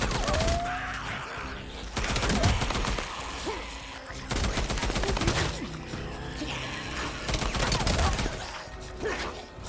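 Gunfire and zombie-horde combat in the PlayStation game Days Gone, with loud repeated bursts of shots and thumps over dense, chaotic noise throughout.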